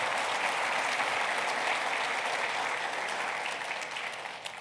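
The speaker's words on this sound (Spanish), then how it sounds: "Mejor aplauso al Señor por eso." A church congregation applauds during a Christian service, a broad continuous wash of clapping from a large gathering, fairly distant and steady, tapering slightly toward the end.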